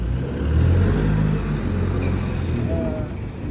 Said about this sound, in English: This is 8 meters belt conveyor.